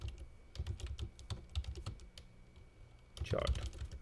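Typing a report name on a computer keyboard: quick, close, fairly quiet clicks in an irregular burst of keystrokes, a short pause, then another cluster of taps.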